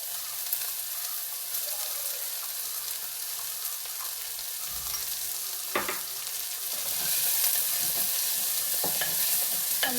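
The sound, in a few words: stirring chopped onions frying in a pan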